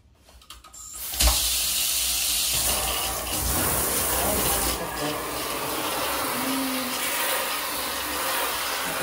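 A dusty aircon filter is washed under running water, with a steady rush of tap water and a rubbing, scrubbing texture over it, close and continuous after a brief start.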